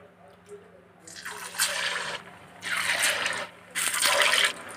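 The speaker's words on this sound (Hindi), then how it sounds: "ऑयल हमारा गर्म हो गया है अब हम इसमें बड़ों को डालेंगे" Medu vada batter dropped into hot oil in a kadhai for deep frying, with bursts of bubbling sizzle that swell and fade three times, close and fairly loud.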